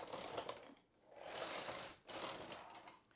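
Knitting machine carriage running across the needle bed to knit rows, a steady mechanical whirring rattle in two sustained passes separated by a brief pause, near and fairly loud with no talk.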